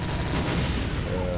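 A chain gun blasting away in Brutal Doom, a dense, continuous roar of rapid fire that stays loud and unbroken throughout the short burst.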